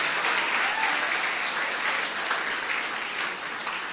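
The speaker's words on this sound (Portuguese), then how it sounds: "Em nome de Jesus, aplauda forte." A church congregation claps loudly together, a dense, sustained wave of applause filling the room, with no voices over it.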